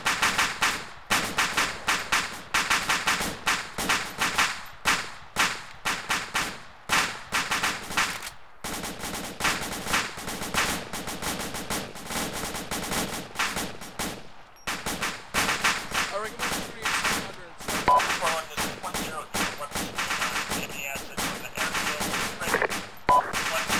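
Sustained automatic gunfire in ArmA II during a paratrooper assault on an airfield, with dense rapid bursts and scattered single shots nearly continuous throughout, loud and close, with occasional brief gaps.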